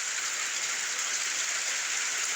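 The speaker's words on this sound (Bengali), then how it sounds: "দেখেন কি পরিমাণ বৃষ্টি, দেখেন গাইস। বৃষ্টি কমতেছে না, বৃষ্টি বাড়তেছে টানা বৃষ্টি।" Heavy, continuous rain falls in Lakshmipur district, making a steady, dense hiss that stays even and unbroken throughout with no voices.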